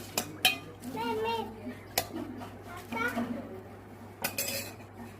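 Bhel puri ingredients being mixed with chili, turmeric powder and hot oil in a metal bowl: sharp clinks and clatter of a spoon against the bowl, with people talking over the mixing.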